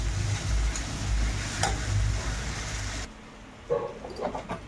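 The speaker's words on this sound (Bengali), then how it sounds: "এই দেখো আমার আদা রসুন ভাজা কমপ্লিট করেছি" Ginger and garlic frying in a pan, a dense close sizzle with a couple of stirring clicks that drops away abruptly partway through, leaving faint scrapes and taps.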